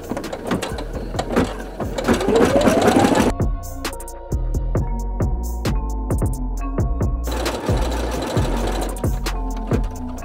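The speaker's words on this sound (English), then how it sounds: "we're going to run a tack down stitch to hold it down one piece at a time" Embroidery machine stitching a tack-down line on vinyl, a fast rapid clatter of needle strikes, loud and close, with a brief pause partway before the rhythmic chatter continues.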